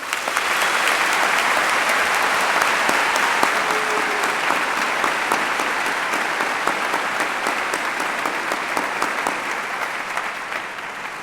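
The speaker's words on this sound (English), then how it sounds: "let us first honor these students who stand before us with a round of applause" A large audience at a high school graduation ceremony applauds, sustained dense clapping that stays steady for over ten seconds and fades slightly toward the end.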